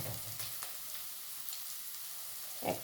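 Garlic paste sizzles quietly in a pan with fried onions, a soft steady crackle with a few small stirring clicks and a brief louder sputter near the end.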